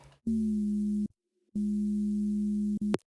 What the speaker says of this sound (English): we have a main bass, which is this one,